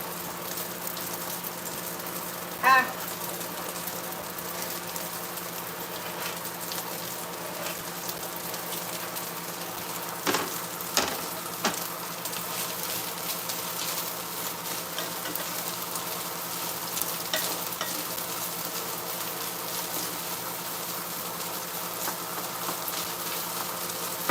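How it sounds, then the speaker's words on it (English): Sliced sausage fries in a nonstick grill pan with a steady, even sizzle that runs throughout, broken by a few faint clicks and scrapes of stirring, heard up close with no talking. "I'm going to slide all these sausage that I've cut right back in there. Right in the skillet they're going to go."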